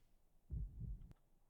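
Two soft, deep heartbeat thumps in a steady lub-dub rhythm, a dramatic heartbeat effect in an anime, faint and alone over a quiet hum.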